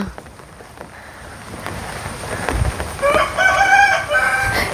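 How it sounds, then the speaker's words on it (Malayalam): A rooster crows once, clear and fairly close, after a few seconds of quiet outdoor ambience with soft patter. "കോഴി കൂവിയിട്ടെങ്കിൽ ഞങ്ങൾക്കുള്ള തീറ്റ കൊണ്ടുവരട്ടെ എന്ന് വിചാരിച്ചിട്ടാണ് കൊണ്ട് കൂവണേ"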